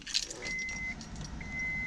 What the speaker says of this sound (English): Alright, so we got keys. Where's the keyhole?